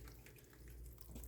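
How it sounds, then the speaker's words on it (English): A homestead fodder system's watering setup, just switched on, lets out a thin, steady trickle of running water, faint and continuous with light splashing and no voices. "So she just turned the watering system on. And you can see it's just a little trickle."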